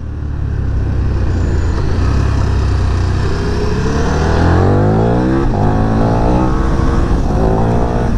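A 2024 KTM 1390 Super Duke R motorcycle engine pulls hard through the bends at mid revs, a loud, close and continuous roar with rising pitch sweeps as it accelerates and shifts.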